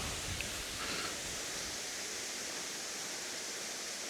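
A waterfall heard from high on a cliff above it, a steady, even rushing roar with no breaks, soft and distant, with no voices.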